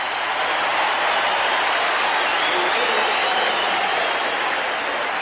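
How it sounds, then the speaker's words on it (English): A football stadium crowd at a 1984 Philadelphia Eagles at Buffalo Bills game roars and applauds, a thick, steady wall of cheering from the stands. "And the crowd comes to life."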